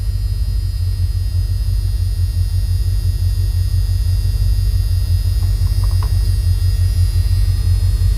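A 1986 Ford Econoline 4x4 van engine runs at a steady idle, its loud, continuous low rumble filling the cabin with no pause or variation throughout.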